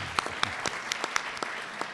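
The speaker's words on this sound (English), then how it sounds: "We applaud you, Mike." An audience applauds Secretary of State Mike Pompeo at the announcement of a Middle East peace plan: a brisk run of sharp, separate claps, moderately loud, with no voices.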